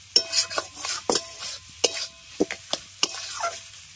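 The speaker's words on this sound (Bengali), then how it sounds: "আর এইভাবে কুলপির সাহায্যে সমস্ত কিছু খুব ভালোভাবে মিশিয়ে নেব।" Poppy seed paste with ridge gourd is stirred and fried in a pan, giving a soft low sizzle under a string of sharp scraping and tapping strokes from a spatula against the metal, close and uneven in rhythm.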